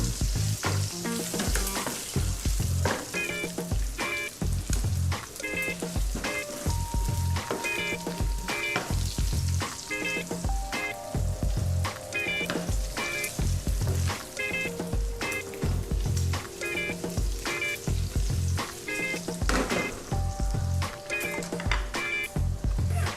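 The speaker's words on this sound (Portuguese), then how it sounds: "É importante mexer bastante na massa assim para ela não grudar." Carbonara pasta sizzles and fries in a pan while being stirred, a continuous close crackle broken by repeated scraping strokes of the stirring, with no talk.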